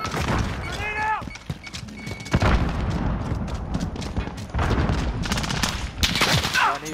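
Call of Duty: Modern Warfare gameplay with bursts of rapid gunfire and a grenade blast, sharp cracks and booms stacked densely across the clip, with players shouting and talking over the combat.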